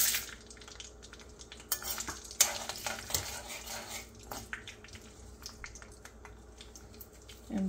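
Mustard seeds, urad dal, chana dal, chilli and cashews fry in a pan for Karnataka-style rava upma, a faint, soft sizzle broken by scraping stirs and light clatters of the pan.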